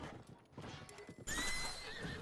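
A horse in The Legend of Zelda: Breath of the Wild gallops with rapid clip-clop hoofbeats, then gives a clear whinny partway through, all fairly quiet and without talk.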